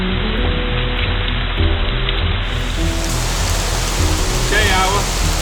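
Steady rain falling through an Irish forest, a dense, even hiss of drops on leaves and ground that holds constant throughout, with faint voices in the background.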